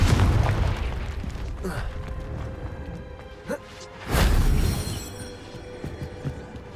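Spell blasts from the Hogwarts Legacy video game, fire-based Incendio and explosive Confringo, land as heavy booming bursts, two big hits standing out among a busy rumbling battle, with a voice briefly present.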